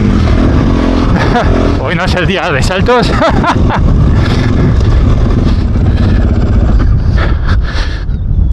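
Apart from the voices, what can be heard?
strong wind blowing while riding a Fantic 450 Rally motorcycle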